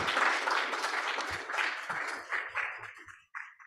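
Applause from the audience at a Japanese press conference on esports, a burst of clapping that thins out into scattered claps and stops.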